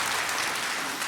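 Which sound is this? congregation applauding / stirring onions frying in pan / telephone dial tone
congregation applauding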